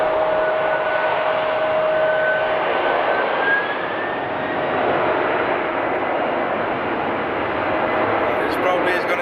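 A jet airliner accelerating down the runway for takeoff at Amsterdam Schiphol Airport, a loud, steady engine roar that holds its level throughout, with a rising whine threading through it.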